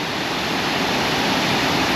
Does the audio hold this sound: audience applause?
no